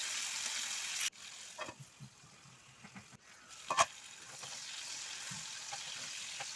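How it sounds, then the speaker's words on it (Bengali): Halved flat beans fry with salt and turmeric in a covered frying pan, giving a faint, steady sizzling hiss broken by a few soft clatters and stirring sounds. "শিম ভাজাগুলো প্রায় আমার দেখুন হয়ে গেছে"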